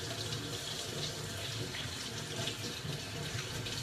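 Water running from a kitchen sink tap while hands are rinsed during food prep, a steady broadband splashing rush held at even loudness throughout, with no talk.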